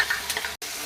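Ginger-garlic paste fries with translucent onions in oil, giving a close, continuous sizzle with faint stirring that cuts out for a moment before starting again.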